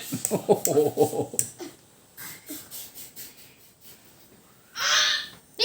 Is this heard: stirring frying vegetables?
no